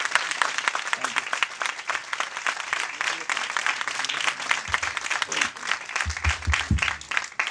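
Loud sustained audience applause at a Christmas sermon event, dense rapid clapping from a large crowd filling the whole stretch without a break, with a few low thumps near the end.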